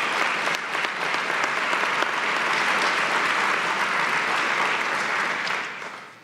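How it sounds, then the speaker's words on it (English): A round of applause from the audience at a police promotion ceremony, with dense, steady clapping across a large room that holds for several seconds and then fades out. "let's give them a round of applause"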